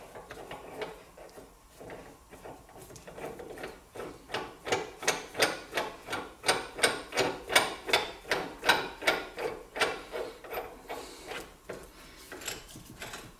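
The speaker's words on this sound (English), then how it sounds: "I'm putting the bearing in the bore, putting the washer on it, and I'm placing a nut on it." Metal bearing press kit at work as a bearing, washer and nut are fitted into a bore, giving a run of evenly spaced clicking, ratcheting strokes that build up and fade, close and fairly loud.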